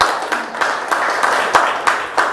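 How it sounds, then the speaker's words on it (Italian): A television studio audience claps steadily for a couple of seconds, with distinct sharp claps rising above a dense wash of applause. "un saluto e un applauso a Francesco D'Agostino"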